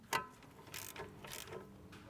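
A torque wrench ratchets while tightening a plug on a 1999-2005 Porsche 996 during a coilover installation, giving a few faint, close mechanical clicks at an uneven pace.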